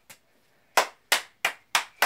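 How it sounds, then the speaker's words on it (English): Six sharp, separate claps ring out, one at the start and then five in a fairly even rhythm after a short pause, close and dry with no voices. "Let's give a clap for both of them for an excellent race"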